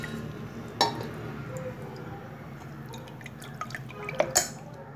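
Water drains from soaked poha in a home kitchen, a few distinct drips landing sharply near the start and end over a quiet, low background.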